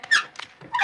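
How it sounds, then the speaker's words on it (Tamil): A door creaks as it is pushed shut, giving a few short, high squeaking bursts in quick succession, close and fairly loud. "கதவு மூட போறேன், தள்ளுங்க."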